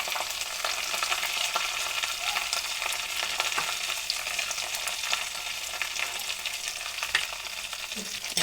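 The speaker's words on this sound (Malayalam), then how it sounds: "ഉള്ളിയിട്ട് നമുക്ക് ഇഞ്ചി ഇടാം." Onion and ginger frying in a clay pot, giving a dense, steady crackling sizzle with scattered pops and small stirring scrapes, close and continuous throughout.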